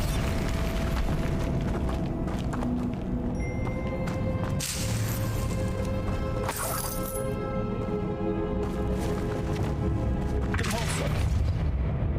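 Bombarda explosion spell in Hogwarts Legacy, with booming blasts and crackling bursts over continuous game music and ambience, a loud hit near the middle and another toward the end.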